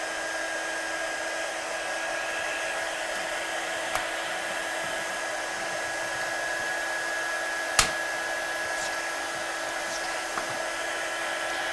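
A heat gun blows steadily while drying a stamped watercolour card, a constant whooshing hum with a faint whine, broken by a couple of brief clicks.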